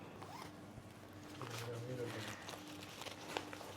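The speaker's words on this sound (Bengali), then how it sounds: "এই দেখো, এদিকে একটা চেন, এদিকে একটা চেন" The zipper on a Stealth EVO 4 riding jacket is pulled close up, giving a short ratcheting zip in the middle of the clip with some handling rustle, while a person keeps talking throughout.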